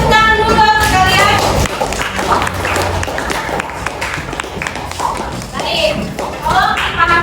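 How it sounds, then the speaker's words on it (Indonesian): Classroom of students applauding, a burst of scattered clapping and taps with some thumps, mixed under a teacher's voice and chatter. "Kita beri tepuk tangan dulu untuk kalian."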